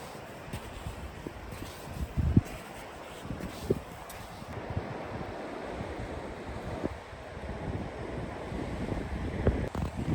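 Lake Michigan waves washing onto a beach in steady wind, a continuous broadband wash with wind buffeting the microphone and a few louder surges, no talking.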